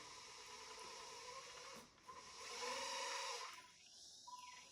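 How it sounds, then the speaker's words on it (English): Hydraulic pump of an RC tracked skid steer loader speeding up, a faint whining hiss that rises in pitch and swells louder before dropping back, heard alone. "the speed of the pump increases, of the hydraulic pump, and then you get the power"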